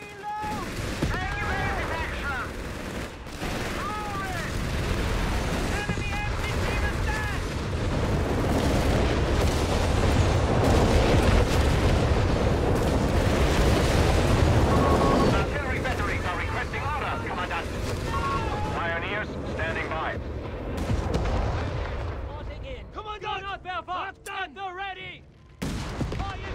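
An artillery barrage in the strategy game Company of Heroes 3 on the San Marino Hills map, sustained rumbling booms and rattling gunfire filling the scene, with unit voice lines called out over the battle.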